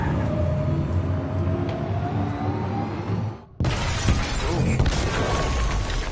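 Glass shatters loudly in the video game Detroit: Become Human, a sharp crash breaking in abruptly after a dip, over a steady rumbling in-game soundscape with engine-like hum beforehand.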